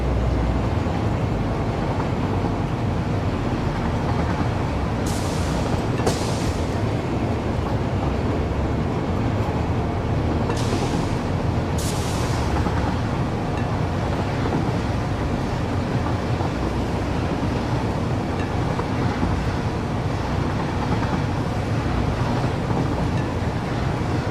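Train in the video game Satisfactory pulling up and stopping at a limestone pickup station, a steady loud rumbling roar throughout with a few brief hissing bursts, no talk.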